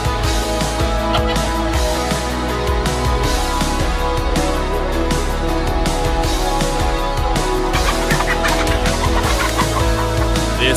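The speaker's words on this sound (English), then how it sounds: "yet another instance of a goose showing its absolute dominance over other animals, with the victim this time being a big old dog" A goose clashes with a big dog amid loud, continuous honking and squawking from fowl, with dense overlapping calls and rustling that stay close throughout.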